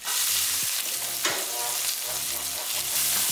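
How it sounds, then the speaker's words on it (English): Onion sizzling in a kadai with a tablespoon of olive oil, cumin seeds and ginger, a steady broadband frying hiss with a few spoon scrapes and stirs, close and continuous, no talking. "We're going to cook our onion like a minute or so."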